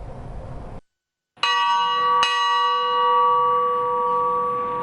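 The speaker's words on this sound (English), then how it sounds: "The bells tolled" Church bell at a memorial service for victims of the April 21st attacks: after a brief pause, a single loud strike rings out and hums on in a long, sustained resonant tone, with a second stroke partway through.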